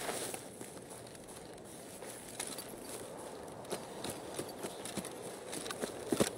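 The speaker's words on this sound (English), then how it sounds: "It's like I heard footsteps" Footsteps in Escape from Tarkov, a run of soft irregular steps on crunchy ground, fairly faint and distant at first and growing a little louder and sharper toward the end, with no talking.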